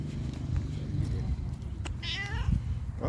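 A cat meows with a rising, wavering cry near the end, over a busy background with talking.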